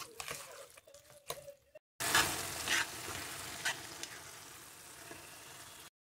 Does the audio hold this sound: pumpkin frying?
yes